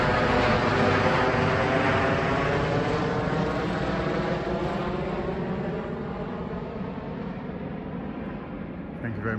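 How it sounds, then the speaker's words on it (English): A helicopter passes over a UK garden, its steady rotor and engine drone filling the whole stretch and fading slightly toward the end. "Excuse the helicopter going over."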